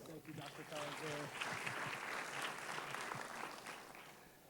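Audience applause at a school Golden Apple Awards ceremony, sustained clapping from a sizeable crowd, with a voice speaking briefly at the start.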